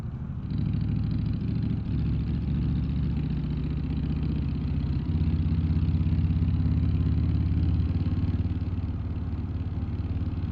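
A car engine in BeamNG.drive sputters while the car coasts on a fuel-saving run, a steady low drone whose pitch shifts slightly midway, heard alone and fairly close.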